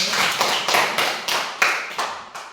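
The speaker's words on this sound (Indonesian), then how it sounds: "Terima kasih, tepuk tangan dulu." A small audience at a talk on tongue cleaning and tooth brushing claps in a handful of distinct, evenly spaced rhythmic claps, close and moderately loud, with no talk over them.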